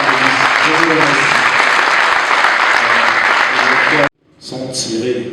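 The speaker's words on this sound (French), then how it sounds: "nous voulons qu'on applaudisse encore pour notre panélistes" A conference audience applauds panelists in loud, continuous clapping that cuts off abruptly near the end, followed by a short burst of renewed clapping and a voice.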